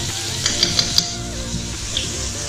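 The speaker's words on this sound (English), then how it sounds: "Just going to give it a mix." Prawn curry being mixed in a pan after soy sauce and lemon juice go in, a steady sizzle with a few light spoon clinks against the pan.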